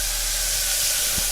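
Steady hissing sizzle of a spice tempering hitting a steaming pot of dal in a home kitchen, a broad close wash of noise lasting throughout with no talk.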